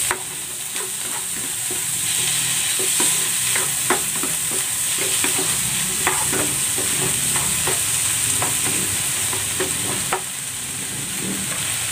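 Chopped squid tentacles stir-fry in a hot pan with onions, giving a steady close sizzle punctuated by frequent sharp scraping and clicking stirs throughout.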